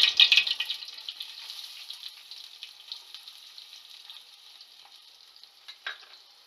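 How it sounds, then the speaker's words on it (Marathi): Onion added to hot tempering oil with curry leaves for a Kolhapuri-style val batata aamti, crackling in a loud burst of sizzle that slowly settles into a steady, quieter frying hiss, with a brief clink near the end. "आता कांदा टाकून घेऊयात फोडणीसाठी"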